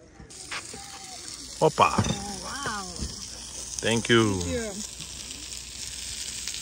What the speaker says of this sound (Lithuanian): deganti keptuvė.